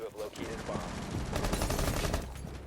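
Rapid gunfire bursts in the tactical shooter Rainbow Six Siege, a dense rattling volley sustained for a couple of seconds, fairly loud and close.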